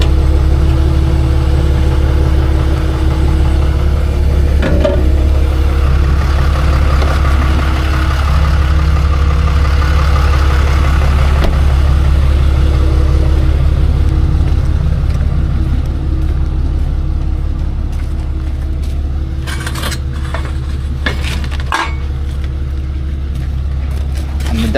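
A 1965 Chevy C10 pro street truck with a big block 454 engine runs at a steady, deep idle close by for the whole stretch, a heavy low rumble with voices talking over it.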